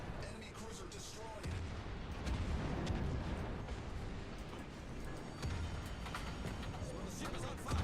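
Heavy naval guns fire in World of Warships amid a dense, constant rumble of booms and battle noise that stays loud and thick throughout, with a voice speaking faintly beneath it.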